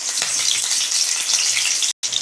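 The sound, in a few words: chopped chillies sizzling in hot oil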